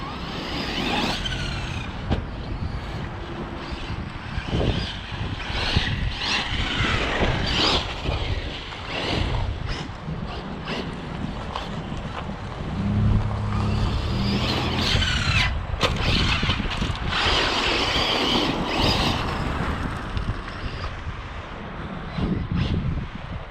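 Cars driving past a residence, a continuous rushing roar of traffic with swelling pass-bys, moderately loud and steady over about twenty seconds with no talk.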